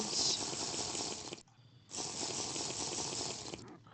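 Water gushes steadily into a kitchen sink in Minecraft, a loud rushing stream that cuts out for about half a second, then resumes and flows on unbroken.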